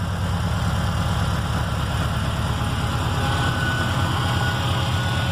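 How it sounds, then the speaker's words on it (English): A 2.5 Mark 4 CAN Bus Subaru engine fitted in a VW T25/T3 van idles steadily, a close, loud, even rumble with a fast regular pulse and no voices. "So there we go, a Mark 4 CAN Bus Subaru engine."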